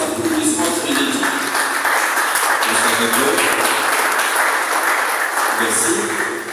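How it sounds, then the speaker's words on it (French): An audience at a World Press Freedom Day ceremony applauds steadily and loudly for several seconds, a continuous wash of clapping with voices faintly mixed in. "Nous sollicitons des applaudissements frénétiques."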